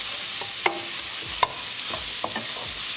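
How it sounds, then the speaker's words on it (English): Onion stirred into hot oil with ginger and garlic, a steady broadband sizzle with a few sharp scrapes and clicks of a spatula against the pan, close and moderately loud, no talking. "We're going to cook our onion until they are nicely translucent."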